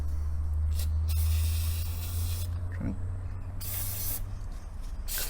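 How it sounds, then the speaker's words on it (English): Short hissing bursts of an aerosol degreaser sprayed onto a Stihl FS81 line trimmer, a long one followed by two briefer blasts, close up over a low steady hum, with a brief word spoken. "So I'm just going to spray this with some degreaser."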